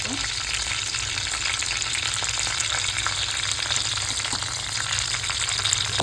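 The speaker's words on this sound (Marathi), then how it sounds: "आता आपण ह्याच्यात मिरची टाकूया। 5 मिरच्या घेतल्या आहे मी। मिक्स करते आता त्याच्यामध्ये कढीपत्ता" Green chillies and curry leaves frying over browned onions in a pan: a dense, continuous close sizzle and crackle throughout, with no talking.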